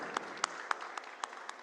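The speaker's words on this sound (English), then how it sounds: "So literally big round of applause for them." Audience at a cybersecurity conference in Pakistan applauding, a short burst of crisp individual claps at a steady, moderate pace in a hall.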